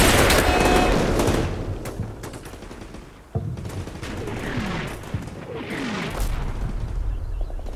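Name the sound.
grenade explosion and gunfire in video game Combat Mission: Black Sea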